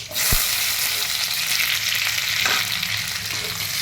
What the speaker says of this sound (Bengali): এবার এইগুলোকে হালকা করে ফ্রাই করে নেব